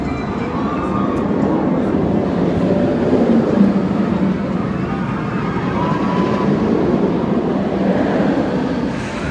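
A roller coaster at Islands of Adventure in Orlando runs with a continuous loud roar and rattle, a dense rushing rumble of the ride's cars on track that holds steady throughout with no clear talk.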